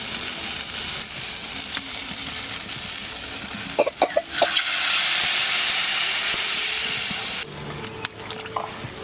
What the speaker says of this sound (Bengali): এখন আমি তরকারিতে জল দিয়ে দিচ্ছি